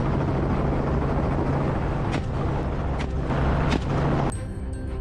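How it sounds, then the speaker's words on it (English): A helicopter flies overhead during an aerial hunt for wild boars in Texas, a steady loud rotor and engine roar filling the whole stretch with no voices. "We have a superior advantage, a helicopter."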